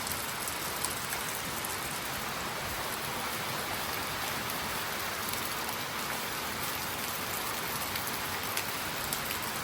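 Steady rain falls and patters on surfaces outdoors, an even, continuous wash of drops at moderate volume with no voices and no breaks.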